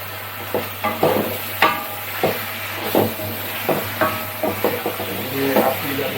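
Ayam goreng kesum chicken frying in a pan while being stirred, a constant close sizzle with repeated scraping strokes of a utensil against the pan, no speech.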